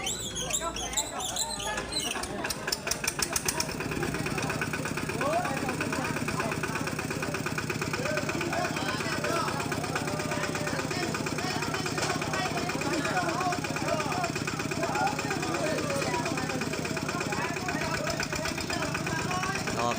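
A farm tractor idles steadily while carrying a coffin in a village funeral procession, its engine chugging loud and close after a brief rattling start and running continuously under faint background voices.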